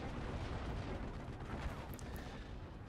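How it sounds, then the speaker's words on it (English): Off-map artillery barrage crashing into a forest around a German MG42 position in the Normandy 1944 wargame Steel Division, a dense, continuous rumble of blasts with no clear gaps and no voices. "an off-map barrage came in the forest where my MG42 was sighted"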